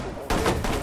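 A sudden burst of gunfire in Rainbow Six Siege, loud and close, lasting under a second, aimed at a shock device.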